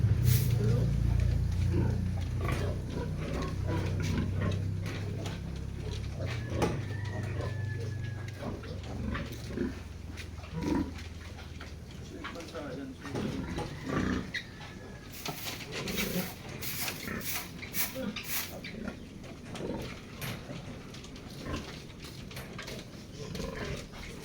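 Newborn piglets only a few days old grunt and squeal near a pen, short oinks overlapping in a busy jumble while people talk over them throughout.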